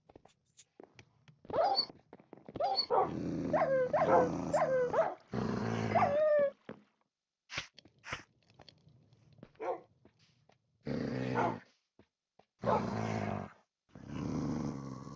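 Several dogs in the Minecraft video game growl, whine and bark in repeated bursts, close and fairly loud, with short silent gaps between the outbursts.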